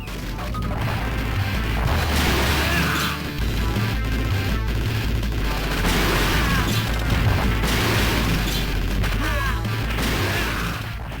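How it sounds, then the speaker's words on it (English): Explosions and rapid weapon fire from the Shock Troopers run-and-gun arcade game crash continuously, loud and dense booms and blasts layered over game music for the whole stretch. "Shock Troopers offers stronger sound presence, with weapons sounding more powerful and explosions sounding fierce."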